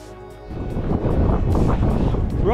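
Strong wind buffets the microphone on a hilly trail near Stanhope, starting softer and rising into a steady, loud roar that stays up close throughout.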